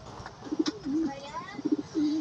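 Soft, low cooing of racing pigeons returning to their loft in two short bursts, rhythmic throaty warbles close by with a faint background hum.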